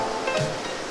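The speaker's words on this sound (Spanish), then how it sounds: "darle otra vista a esta hermosa cascada" Steady rushing roar of the first fall of the Huépil waterfalls in Chile's lake district, a dense wash of falling water heard close and continuous, with no voices.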